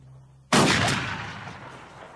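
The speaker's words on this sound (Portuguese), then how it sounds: "Belo tiro." A single loud gunshot in a Western film scene cracks out suddenly after near silence, its sharp blast trailing into a long fading echo.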